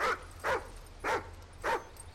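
Riley the dog in Call of Duty Ghosts gives four short whimpering barks at a steady pace, close and fairly soft, with a low game ambience underneath.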